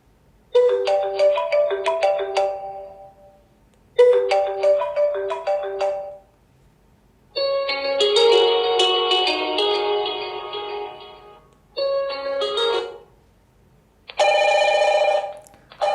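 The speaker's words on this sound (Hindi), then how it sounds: "यहाँ से चेक करते हैं कुछ रिंगटोन्स को चलाकर।" Several short melodic ringtones play one after another from a feature phone's small speaker, loud and tinny, with brief silences between each tune.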